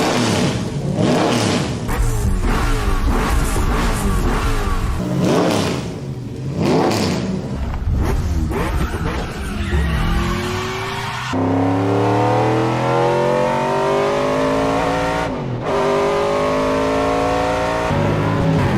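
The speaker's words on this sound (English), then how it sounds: "listen to this clip of a PTG M3 GTR with an S62" PTG BMW M3 GTR race car with an S62 cross-plane V8 revving hard, a loud close engine climbing and dropping through repeated throttle blips before settling into a sustained high-pitched wail, with no voices.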